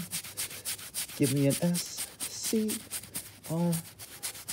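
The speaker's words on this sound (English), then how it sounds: "We're gonna scrub, scrub, scrub till the scrubbing is done." Steady rubbing and scrubbing on a mattress being cleaned with household cleaner, a continuous close scratchy texture running throughout, with a person speaking briefly in the middle.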